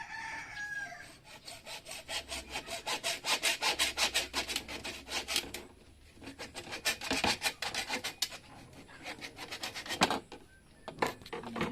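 A hand saw cuts through wood in quick, rhythmic back-and-forth strokes, pausing briefly now and then, outdoors by a fish pond, while a rooster crows faintly in the background.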